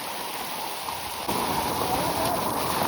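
Heavy rain pours steadily during a trek on the Ganesh Ghat route to Bhimashankar, a dense close wash of downpour that grows louder halfway through, with no talk.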